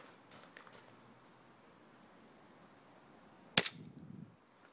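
A single sharp crack of an M9 gas-powered BB pistol fired at fruit, followed by a brief low thud of impact, in an otherwise quiet setting.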